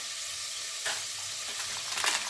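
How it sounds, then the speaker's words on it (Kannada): Onions fry in a pan for chicken biryani, giving a steady, soft sizzling hiss with a couple of brief stirring scrapes, faint and without voices. "ಚೆನ್ನಾಗಿ ಫ್ರೈ ಮಾಡ್ಕೊಳ್ಳೋಣ."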